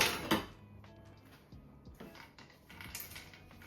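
Hard clattering knocks of frozen food against a metal pan, a loud burst at the start followed by scattered lighter rattles and taps, close by.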